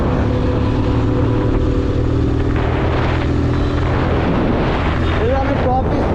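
Motorcycle engine held in fifth gear at about 5000 RPM while riding along the Dhaka–Mymensingh highway, a steady loud drone with heavy wind rush throughout, passing traffic noise swelling near the end.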